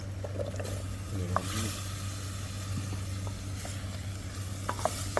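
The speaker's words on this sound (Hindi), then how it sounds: "हम थोड़ी देर के लिए आलूओं को भूनेंगे।" Potatoes fry in a pan with a faint, steady sizzle over a low constant hum, with occasional small clicks of stirring.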